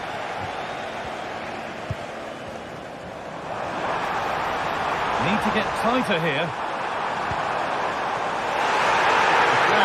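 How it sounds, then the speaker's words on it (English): A crowd in a football video game swells into a broad, rushing roar that builds through the second half, with a commentator talking over it. "The crowd urging him to shoot."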